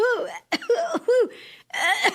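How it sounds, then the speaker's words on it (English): A woman coughs in several short, harsh bursts close by, with pauses between the fits and a throat-clearing quality. "you're going to hear her start to cough"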